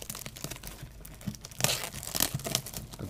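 Plastic wrap being torn and crinkled off a Japanese Pokemon booster box, close and fairly quiet, with irregular crackles building into louder rips and crunches toward the end.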